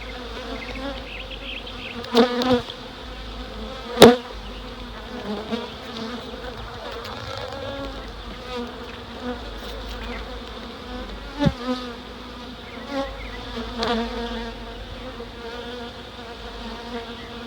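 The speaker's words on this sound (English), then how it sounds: "Yep, so these bees have settled down, they're going to work." A dense, steady hum of many honeybees buzzing close by at a hive after a split with grafted queen cells, with occasional louder bees passing near.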